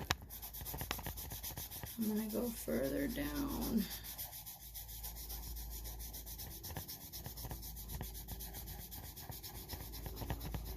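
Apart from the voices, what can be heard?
pencil shading on drawing paper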